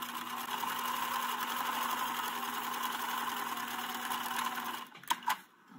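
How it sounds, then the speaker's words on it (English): A sewing machine runs a steady continuous hum while stitching a seam on a fabric face mask, close and even for several seconds before stopping with a few brief clunks at the end. "There we have second seam sewn."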